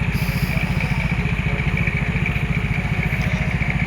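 The engine of a Mahakam river taxi boat, the KM Berkat Hikmah, chugs steadily while the boat is underway, a loud, close, rapid rhythmic thrum with a constant high whine above it.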